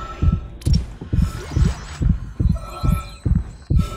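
A heavy heartbeat thuds in the Dead Space 3 video game, each double-thump landing low and loud about every half second in a steady rhythm, with faint game ambience and tones behind it.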